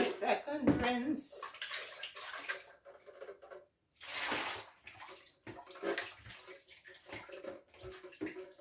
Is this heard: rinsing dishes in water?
yes